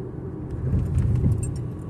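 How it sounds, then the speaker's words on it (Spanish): A car drives through city traffic, heard as a continuous low engine and road rumble from inside the vehicle, with faint light rattles and no talking. "Es difícil salir de la ciudad en este tránsito."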